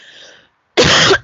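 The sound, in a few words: cough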